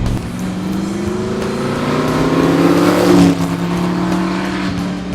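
Loud, rumbling 306-horsepower 289 V8 engine of a 1965 classic car idling and revving up, the pitch rising and falling steadily over several seconds, heard up close.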